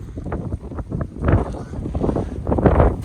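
Wind gusts buffet the microphone in the aftermath of an Alaska blizzard, blowing in uneven rumbling surges that swell and fade over a few seconds.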